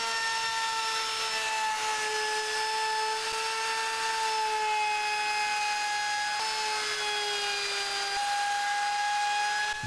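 A power router rounds over the edge of a wooden desktop, a loud, steady high whine with slight pitch dips as it cuts along the board.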